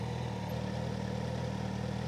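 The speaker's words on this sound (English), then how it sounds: "if that isn't the sound of an inline four performance motorcycle" A Suzuki GSX-S1000 inline-four motorcycle engine runs steadily nearby, a smooth continuous buzzing drone with a faint mechanical clatter and no speech.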